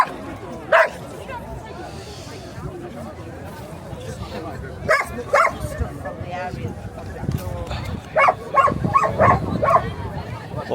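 Dog barking near a busy bridge outdoors, several sharp barks scattered through the scene among crowd noise and general outdoor bustle.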